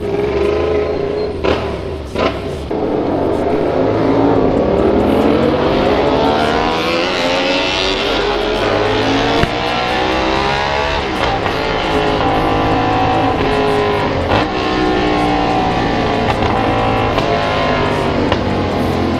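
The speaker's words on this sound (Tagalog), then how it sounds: "Sasakit ang tunog ng pipe nila mga padi." A loud, roaring motorcycle exhaust drones steadily throughout, its pitch rising and falling as the engine revs, with no voices.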